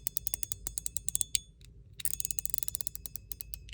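A titanium fidget toy's mechanism clicks in rapid, irregular bursts of sharp, close, fairly quiet ticks, pausing briefly midway before resuming in a denser flurry.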